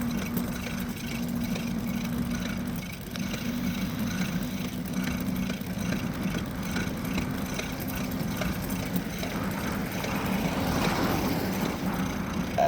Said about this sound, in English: Bubba, sounds like this bike needs a little maintenance